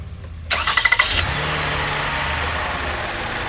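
A Toyota Sienna engine cranks with a quick burst of rapid starter pulses, then catches and settles into a steady, close idle hum, with no talking.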